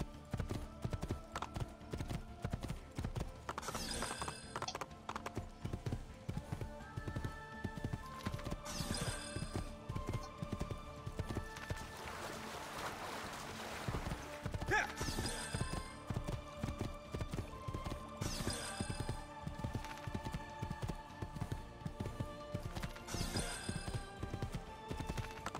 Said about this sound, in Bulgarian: Той е яздане на кон.